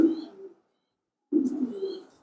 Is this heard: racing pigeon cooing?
yes